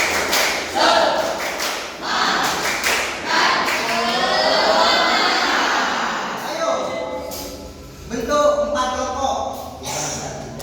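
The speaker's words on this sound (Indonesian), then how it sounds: "Yuk bareng-bareng, 1, 2, 3, tepuk semangat" Classroom pupils perform a rhythmic 'tepuk semangat' spirit clap, with loud patterned bursts of hand claps mixed with group chanting and a teacher's voice throughout.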